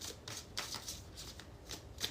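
Tarot cards being shuffled by hand in a series of quick, soft riffling bursts, fairly faint and close with short pauses between.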